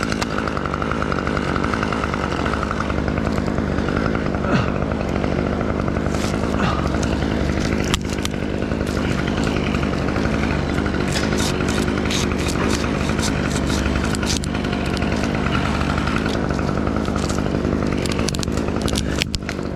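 A chainsaw runs loud and close for about twenty seconds, a steady, unbroken buzzing drone with no pauses or revving gaps.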